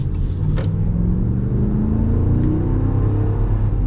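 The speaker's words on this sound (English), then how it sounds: "So you get a simplistic, naturally aspirated V8 with no hybrid." A naturally aspirated V8 in a 2024 Ram 1500 Classic rumbles steadily as it pulls, a low throbbing drone that swells slightly in pitch across a few seconds, heard close with no talking.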